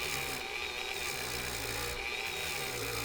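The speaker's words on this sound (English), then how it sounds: "hopefully this wire wheel on this Dremel will help me do that" A Dremel rotary tool fitted with a wire wheel brushes excess solder off brass at low speed, giving a close, continuous whirring scrape that stays steady throughout.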